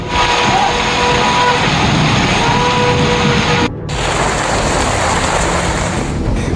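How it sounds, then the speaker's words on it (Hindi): Heavy, unseasonal rain pours steadily during Cyclone Yaas in eastern India, a loud, dense, unbroken hiss of water with a brief cut partway through. "बेमौसम तेज बारिश ने लोगों को दिया डर।"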